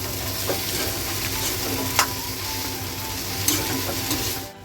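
A vegetable mixture with onion is stirred in a hot pan over a high flame, giving a steady close sizzle with occasional scraping clicks of the spoon.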